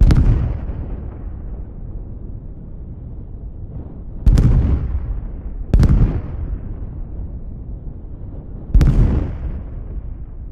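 Darkstar scramjets heard from behind in Microsoft Flight Simulator give sharp, loud booming bangs, four separate blasts at irregular intervals, each decaying into a low rumble.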